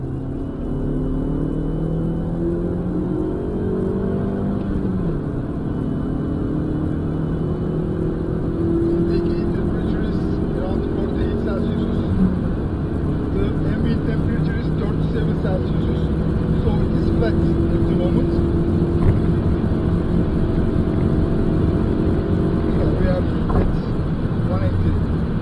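An Alfa Romeo MiTo fitted with a water-methanol kit runs on a test with the kit switched off, its engine holding a steady droning hum with shifting pitch and swelling revs, while someone talks over it.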